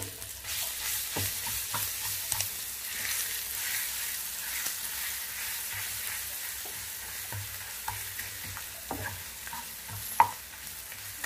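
Pounded tamarind chutney frying in a pan, being stirred for vurimindi chithrannam: a steady soft sizzle runs throughout with occasional clinks and scrapes of the spoon against the pan, close and moderately quiet, no talking.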